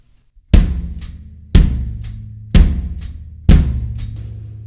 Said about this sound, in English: on the and of the beat, I would use the pedal hi-hat. That would sound like this.